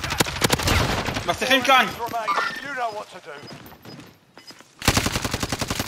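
Gunfire in a shooter game, bursts of rapid shots opening the stretch and returning loudly at the end, with excited shouting voices talking over the shots in the middle.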